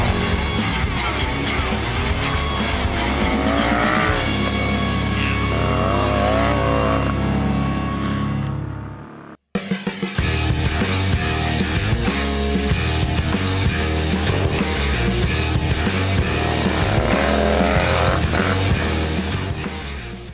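Harley-Davidson flat track racing motorcycles roar at full throttle, loud sustained engine drone with rising and falling revs, briefly cutting out before the noise returns just as intense.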